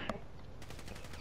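A rapid burst of automatic gunfire in a video game, a quick rattling string of shots following a single earlier crack, sitting close and fairly loud.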